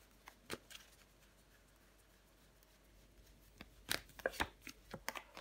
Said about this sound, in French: Je vais recouvrir le 9 de Pentacle.